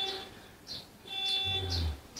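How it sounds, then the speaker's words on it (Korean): An electronic device beeps steadily in a fortune teller's consultation room. Faint, high beeps repeat about every half second over a low background hum. "영상에 저 삐삐거리는 소리가 들어가겠다."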